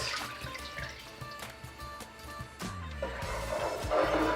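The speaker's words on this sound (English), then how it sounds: "Add milk to the skillet" Milk pours into a skillet of cooked garlic, a steady liquid splash and trickle that swells toward the end, with faint kitchen clatter underneath.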